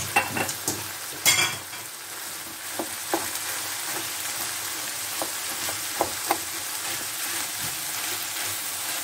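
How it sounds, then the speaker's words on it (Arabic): Rice with turmeric and meatballs fries in oil, a continuous close sizzle with scattered spoon scrapes and taps as it is stirred, a few louder clanks near the start. "غادي ندير هذا الرز يتقلى معاه شويه في الزيت باش يجي مزيان"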